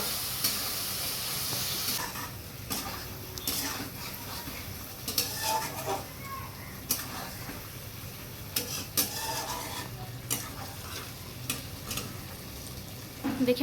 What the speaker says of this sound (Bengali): এবার মশলাটা ভালো করে কষিয়ে তেল ছাড়বে